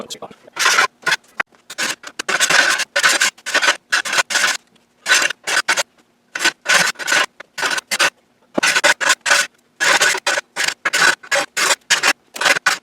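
A coarse file rasps across a steel sword blank for a Roman gladius in quick, repeated strokes, loud and close, with brief pauses between bursts.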